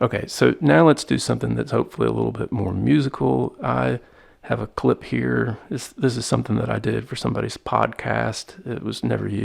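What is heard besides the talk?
No distinct noise like a dog, phone or traffic.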